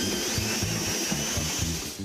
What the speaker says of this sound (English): As soon as Joe gets drilling again